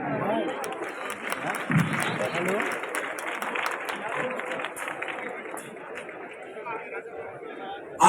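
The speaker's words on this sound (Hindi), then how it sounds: "एक जोरदार तालियां।" Applause and crowd chatter at a stage event as leaders are called up, a dense steady wash of clapping mixed with voices throughout, with a louder burst at the very end.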